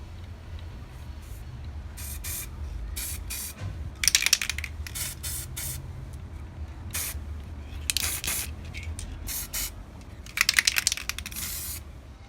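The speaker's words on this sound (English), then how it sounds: "I'll add a few coats of the gold to green color change paint." Aerosol can spraying gold-to-green color change paint onto a pendant, a series of short hissing bursts of varying length separated by pauses, close and moderately loud.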